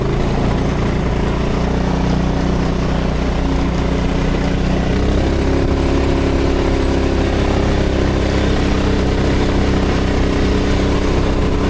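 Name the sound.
turbocharged 390cc golf cart engine revving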